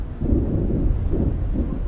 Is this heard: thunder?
yes